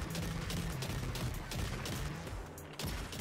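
Dense, continuous video-game gunfire from an explorer rifle in a shooter match, a steady barrage of overlapping shots that runs throughout with no gaps.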